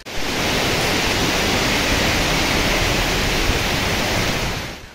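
Floodwater rushing through rivers in Sylhet during flash flooding after heavy rain, a loud, dense, unbroken roar filling the whole stretch.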